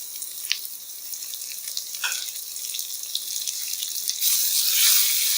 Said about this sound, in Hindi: इसको अच्छे से हम बहुत अच्छे से फ्राई कर लेंगे।